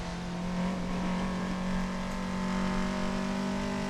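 A Toyota AE86 driving fast on a mountain touge road, its engine holding a steady loud drone from inside the car with a slight rise and fall in pitch.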